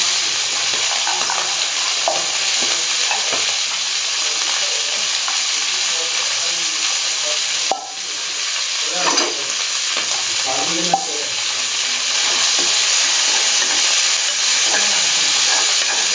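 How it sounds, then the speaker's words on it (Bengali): Vegetables fry in an oil-filled pan for fried rice, a loud, steady hiss and sizzle with occasional stirring scrapes throughout. "সবজিগুলো এর মধ্যে দিয়ে আমি সবজিগুলো ভেজে নেব।"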